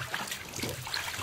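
Ducks splash and dunk themselves in a deep, insulated recycled bathtub used as a duck tub, giving soft, close trickling and sloshing water sounds over a brief stretch with no talking.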